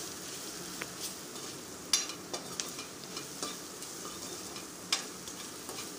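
Finely chopped potato and eggplant, washed and mixed with chilli powder and spices, stirred in a hot pan, giving a steady frying sizzle broken by scattered sharp spoon scrapes and taps against the pan, with no one talking.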